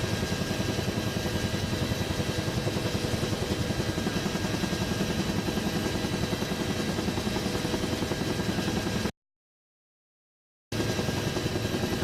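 Huey helicopter in the DCS flight simulator, its rotor thumping in a steady rapid beat over a loud, dense engine roar that fills the clip, cut by a brief silent gap near the end.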